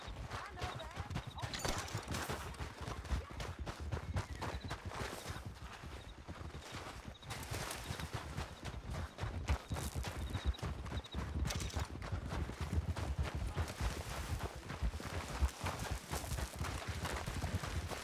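Horse hooves clip-clop in the Red Dead Redemption 2 video game, a continuous galloping rhythm that is fairly close and runs the whole time, with a horse neighing and voices talking over it.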